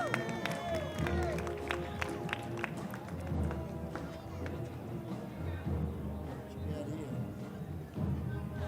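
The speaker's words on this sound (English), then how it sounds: "Let's give them a big round of applause." An outdoor parade crowd applauds a high school marching band, a steady wash of clapping and cheering with scattered sharp claps throughout.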